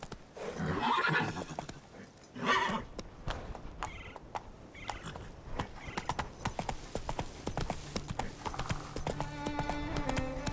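Hooves of the horse Roach clip-clop steadily in The Witcher 3 as it gallops, with a couple of neighs and whinnies rising over the rhythmic thudding, plus faint game background sounds.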